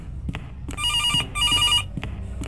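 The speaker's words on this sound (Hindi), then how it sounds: "ओके फोन से आवाज आ रहा है।" A phone rings in a horror mobile game, two electronic trilling bursts set among dull ambient thuds, close and clear with no talk.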